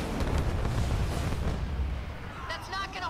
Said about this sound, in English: Isabel, launch Archer missiles now.